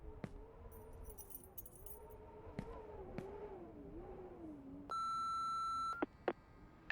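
In the game Remothered, a sharp answering-machine voicemail beep sounds as a steady tone lasting about a second, followed by a few short clicks, with scattered rattles and a faint tonal hum before it.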